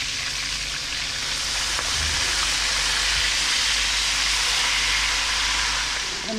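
Loud, constant sizzling and crackling of fish frying in hot oil, a dense hiss that carries steadily throughout with no talking.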